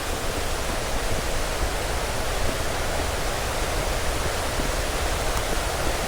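Basag Falls after rain, heavy water pouring and crashing in a dense, steady roar that fills the whole scene without pause, loud and close.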